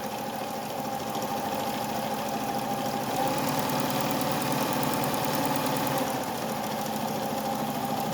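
A vintage White Model 764 "Fair Lady" sewing machine from the New York World's Fair runs steadily for several seconds, a close, even motor hum with a fast rhythmic needle clatter underneath, no talking.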